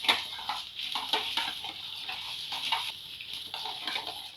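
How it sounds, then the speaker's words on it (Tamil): Curry leaves and spices dry roasted in a pan without oil for sambar powder: faint, steady scraping and rustling as a spoon stirs the dry ingredients, with no voice over it. "இந்த எல்லாத்தையும் நல்லா ட்ரை ரோஸ்ட் பண்ணிக்கோங்க"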